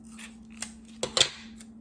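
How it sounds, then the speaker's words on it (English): Tape being pulled and pressed onto a paper strip for a Miro-style mobile art project: a few short, crisp rips and crackles, close and fairly quiet, over a faint steady hum. "I'm going to take another one and I'm going to tape it."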